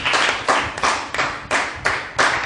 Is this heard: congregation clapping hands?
yes